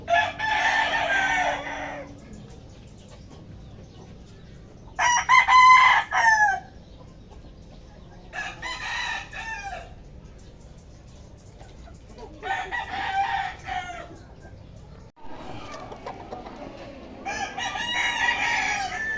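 Several roosters at a backyard breeder crow in separate bursts a few seconds apart, loud and near, with quiet gaps between calls and some clucking.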